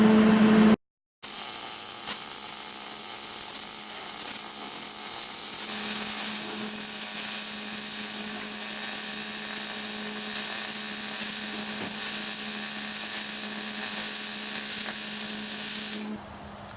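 Welding on the tabs of a torque converter back plate for a Comet TAV 30 torq-a-verter on a mini bike, a steady bright electric buzz and hiss running continuously for about fifteen seconds, close and even, then cutting off.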